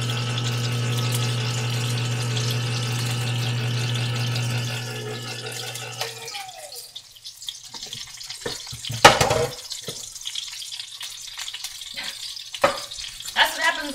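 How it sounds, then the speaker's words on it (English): Coconut milk pours into a cooking pot in a home kitchen as a steady humming drone gives way to wet splashes, drips and scattered clatter. A voice talks intermittently. "here goes the rest of my coconut milk"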